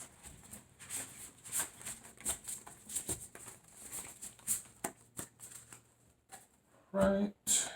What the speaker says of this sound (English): let me go ahead and get to the main shuffle